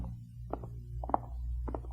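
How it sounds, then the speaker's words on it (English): Footsteps on a hard floor in a building's corridor, following behind someone: three soft clusters of steps at an even walking pace over a low steady hum, fairly quiet and moderately close. "I hear footsteps behind me."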